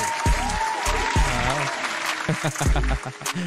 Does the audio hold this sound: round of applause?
yes